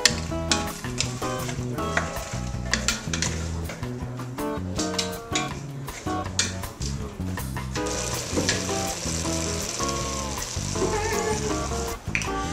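Vegetables sautéing in butter in a pan for a bisque, a continuous close sizzle with frequent spoon stirs and clicks, played under background music.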